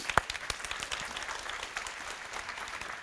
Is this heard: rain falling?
no